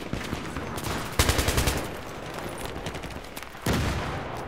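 FAMAS or L85A2 rifle fire in Battlefield 3 on the Karkand map, rapid automatic bursts that crack loudly in two clusters over a noisy battlefield background, no voices.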